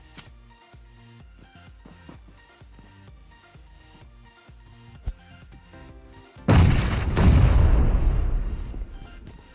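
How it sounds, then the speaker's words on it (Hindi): A grenade blast in the PUBG battle game: one sudden, loud, close explosion cuts through steady background music and decays into a long rumbling roar. "फिर तुम्हारे भाई ने निकाला ग्रेनेड, एंड फिर ग्रेनेड उठा के पटाखे फोड़ दिए यहाँ पे"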